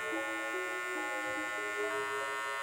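An electric hair clipper blends a mid fade, giving a steady, close, continuous buzz with a constant whine and small shifts in pitch as it moves through the hair.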